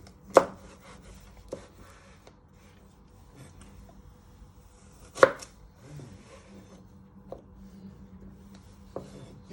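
Knife chopping parsnips on a board, a few sharp separate thunks spaced seconds apart, close and alone.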